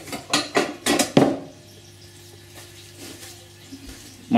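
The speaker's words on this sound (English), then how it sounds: "I forgot to put the water in, so I'm just going to put that in" Water poured into a blender jar over sliced vegetables: a few splashy, gurgling bursts in the first second and a half, then only quiet clinks and faint handling noises. No voices.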